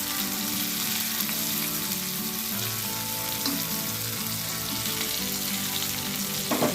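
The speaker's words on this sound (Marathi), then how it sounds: "जेणेकरून आपल्या तव्यामधील सर्व कोळंब्या चांगल्या अशा फ्राय" Prawns frying in oil on a tava for a spicy kolambi fry, a dense, steady close sizzle with faint scraping and stirring clinks throughout, no talking.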